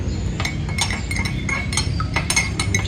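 A sanitized spoon stirs sugar into wort in a Klarstein Brauheld Pro brewing vessel, making quick, bright metallic clinks in a rapid irregular rhythm over a low steady hum.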